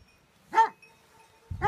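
Dogs from a pack in the Romanian mountains bark twice, sharp and fairly close, with a quiet pause between the barks.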